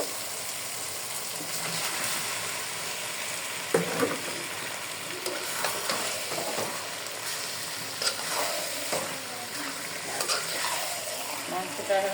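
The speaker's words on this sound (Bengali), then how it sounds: "মশলাটা কষানো হয়ে গিয়েছে এখন আমি মাংসগুলো দিয়ে দিব" Broiler chicken coated in cumin, turmeric and chili powder frying in a pan of cooked-down spices, a steady loud sizzle throughout with repeated scraping stirs, close and without talk.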